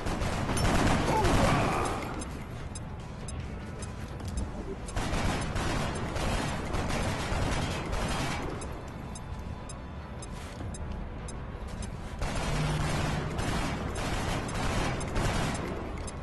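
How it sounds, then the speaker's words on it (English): Grenade blast and gunfire in XCOM: Enemy Unknown, heard as three loud, dense bursts of crackling combat noise, each lasting a couple of seconds, separated by quieter rumbling stretches, with no talking over them. "Now we're going to have our heavy come up and throw a grenade in that sectoid's lap."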